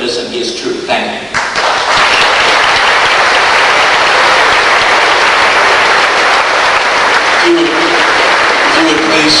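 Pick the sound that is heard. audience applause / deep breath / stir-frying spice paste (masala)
audience applause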